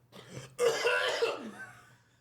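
A single harsh, close cough bursts out, followed by a rasping, wheezy trailing breath as it fades.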